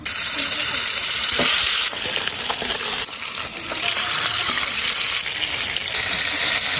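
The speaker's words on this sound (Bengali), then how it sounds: "মাছটাকে এবার ভেজে নেব" Fish coated in sour yogurt frying in hot oil on a stove, a loud, steady, close sizzle that runs the whole way through with scattered crackles and the occasional clatter of stirring.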